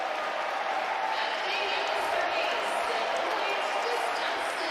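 A packed crowd of over 7,000 volleyball fans at the Wisconsin Fieldhouse in Madison roars and cheers on game point, a steady, dense wall of noise that stays loud throughout.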